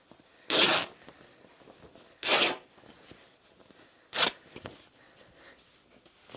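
Quilting fabric with a strong selvage is ripped by hand to shorten a length of about four yards. Three separate tearing rips sound loud and close, spaced a couple of seconds apart, with quiet handling noise between them.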